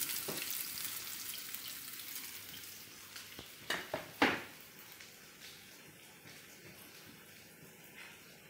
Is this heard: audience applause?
no